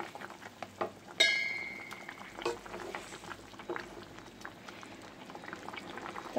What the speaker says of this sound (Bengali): এবার এর মধ্যে মাছগুলো দিয়ে দেবো